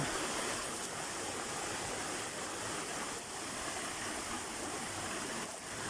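A mountain creek flows steadily, its water giving off a continuous, even rushing hiss at close range, with no voices over it.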